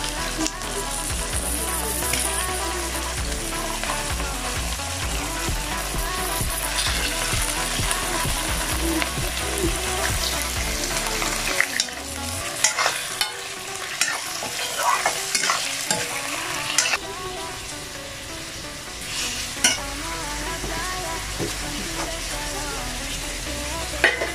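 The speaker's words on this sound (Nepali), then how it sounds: "मासु भुटिसक्यो है त्यो रातो भइसक्यो" Washed meat frying in a pan with onions, a dense loud sizzle under busy stirring and scraping that softens midway, leaving sharp repeated clanks and scrapes of the spoon against the pan.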